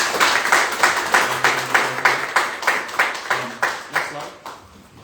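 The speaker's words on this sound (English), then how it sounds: "Round of applause for Mark, please." A small audience at a homebuying seminar gives a short round of applause, rhythmic pulses of clapping, about a dozen evenly spaced swells, fading out over several seconds.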